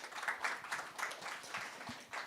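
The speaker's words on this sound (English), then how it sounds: "With a round of applause for the panelists." Audience applause for conference panelists at the close of a panel discussion, a steady moderate patter of many hands clapping at some distance in a hall, with no voices over it.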